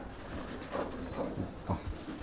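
A domestic pigeon of a Tapan Saha bloodline coos nearby in a few low, throaty rolling bursts over a soft background hum, with no talking.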